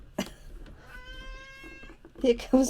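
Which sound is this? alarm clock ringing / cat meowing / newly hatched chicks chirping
cat meowing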